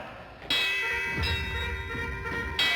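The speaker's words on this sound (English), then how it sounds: "Ring the alarm bell!" A metallic bell rings with a bright, lingering clang, struck again partway through and once more at the end, resonant tones sustaining between strikes.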